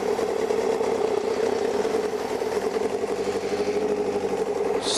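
Kawasaki Ninja ZX9R motorcycle engine idling on choke while warming up, a steady, even mid-pitched drone with a fast regular pulse, close and continuous throughout with no talk.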